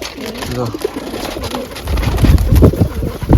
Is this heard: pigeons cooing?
yes